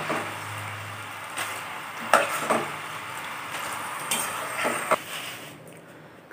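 Peanuts deep-frying in hot oil while making a South Indian mixture, a faint steady bubbling hiss broken by a few light clinks and scrapes of a utensil against the pan.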